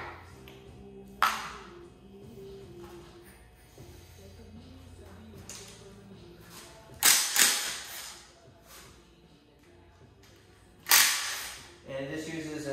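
A 10 mm socket wrench works bolts out of the bottom cover of a spare 16-valve 4A-GE engine during a teardown, giving sharp metallic clicks and clanks at scattered moments over a quiet, faintly ringing background.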